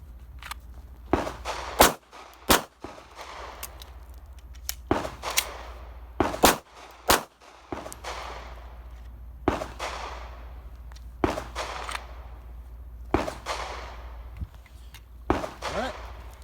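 Pistol shots on an outdoor range during an NRA defensive pistol qualification at seven yards: sharp, loud cracks in quick pairs and short strings, separated by brief pauses across the stretch.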